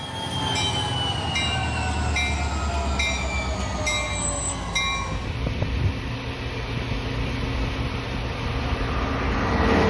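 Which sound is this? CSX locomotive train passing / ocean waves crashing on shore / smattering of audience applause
CSX locomotive train passing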